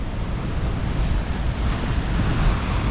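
Ocean waves pound against rocks along a windy Australian coastline, a steady, loud, roaring wash of surf and spray close by, mixed with wind buffeting the microphone and no talk.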